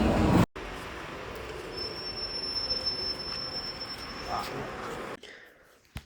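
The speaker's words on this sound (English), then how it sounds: "We're currently on the subway, we're heading to Futian." A subway train rides along a metro line in China, with steady rumble and a sustained high wheel squeal through most of the stretch, then a sudden drop near the end.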